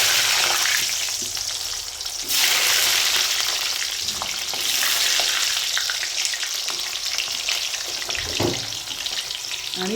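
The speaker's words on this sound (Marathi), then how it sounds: "आता आपण भाज्या तळून घेणार आहोत. आता सर्वप्रथम मी पहिले वांगे टाकत आहे." Eggplant and other vegetables for Gujarati undhiyu fry in hot oil, giving a loud, continuous crackling sizzle that swells and settles, with a few clinks and stirring scrapes.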